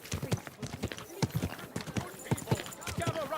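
Horse hooves clip-clop in a steady walking rhythm in the medieval game Kingdom Come Deliverance 2, close and distinct, with game voices talking over the footfalls.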